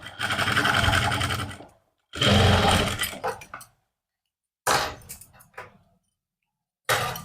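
A sewing machine stitches a lining suit seam in four separate bursts of varying length, close up, with short silent gaps between runs.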